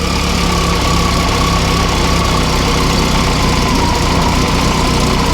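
A Morris Minor engine idles steadily after an ignition timing adjustment, running loud and close with a constant low rumble and no talk.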